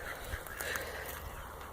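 Free-range ducks squawk and honk in a few short, uneven calls over a soft outdoor background, at moderate distance, with no talking.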